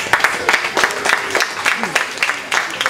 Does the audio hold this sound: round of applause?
yes